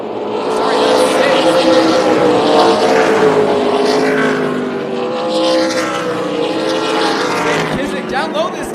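Super late model race cars roar around Tucson Speedway on championship night, their engines loud and continuous with rising and falling pitch, while a commentator talks over them.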